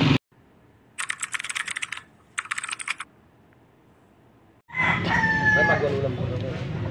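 Two short bursts of rapid clicking in near silence, then a loud rooster crow rings out close by at a chicken market and carries to the end.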